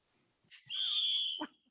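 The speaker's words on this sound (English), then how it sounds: "There's your whistle." A whistle blows once at a preseason football game: one sustained, shrill tone lasting under a second, heard fairly faint and ending in a short low knock.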